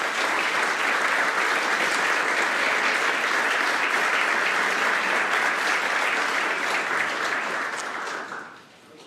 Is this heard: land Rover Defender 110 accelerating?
no